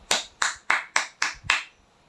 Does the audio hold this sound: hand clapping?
yes